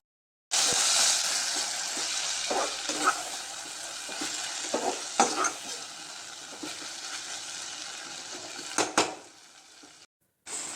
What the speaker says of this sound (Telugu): పసుపుని కూడా మంచిగా కలిపెట్టేసేసి మళ్ళీ మూత పెట్టేసి